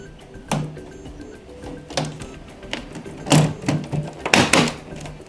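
Plastic clicks and knocks from an Electrolux Comfort 600 vacuum as its filter is pushed back into place: several sharp taps and snaps at irregular intervals, close to the microphone, with the last two louder and clustered.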